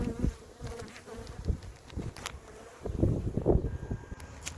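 Agitated honeybees buzz loudly and continuously at an orchard beehive during an inspection, their dense droning close to the microphone with swelling bursts and faint wind noise.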